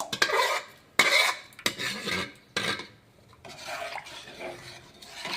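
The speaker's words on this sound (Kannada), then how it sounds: "ಕೈ ಬಿಡ್ಲಾರ್ದಂಗೆ ತಿರುಗಿಸ್ಬೇಕ್ರಿ." A spoon scrapes and stirs thick semolina (rava) dough in a metal pot, giving repeated sharp clanks and gritty rasping strokes at an uneven rhythm, close and loud with no talking.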